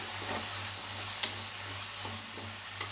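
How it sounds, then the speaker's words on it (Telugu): Potatoes fry with chili powder in a pan, a steady broadband sizzle running throughout with occasional soft clicks of stirring, close and moderately loud with no talking. "ఇలా కొద్దిగా ఫ్రై చేసుకుందాము"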